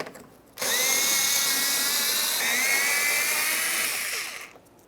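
A power tool whirs steadily for about four seconds, loud and close, driving out the 10mm mounting bolts that hold the engine splash shield on a 2011-2020 Toyota Sienna, with a slight pitch change partway through and no talk.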